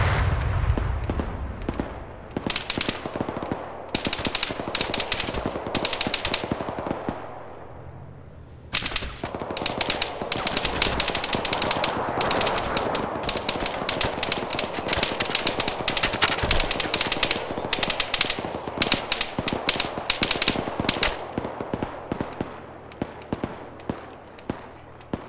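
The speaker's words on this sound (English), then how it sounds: "We're taking heavy fire." Heavy automatic gunfire in the combat game Arma, dense bursts of rapid shots crackling almost continuously at close range, with a short lull before the firing resumes even more intensely.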